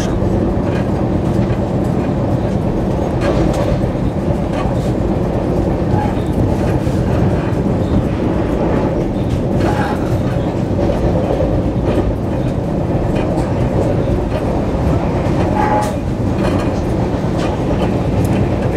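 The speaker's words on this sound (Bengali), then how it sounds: "ঢুকছে দমদম রেলওয়ে স্টেশন।" The Darjeeling Mail rolls into Dum Dum railway station with a loud, continuous rumble of wheels and carriages and a rhythmic clatter over the rails.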